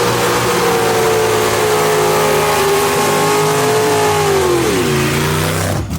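A gasser drag racing car, with the wide-open engine roaring close and loud down the track, its pitch climbing steadily and dipping as it shifts near the end.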